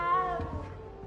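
Cat in the Hogwarts Legacy video game gives a single short, close meow, quiet against soft background game ambience.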